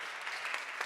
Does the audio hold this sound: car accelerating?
no